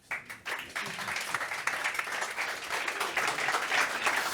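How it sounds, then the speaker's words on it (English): An audience at a cybersecurity conference session claps to welcome a speaker, the applause starting after a brief pause, building quickly and staying dense and strong to the end. "Please give a big round of applause to Gregor"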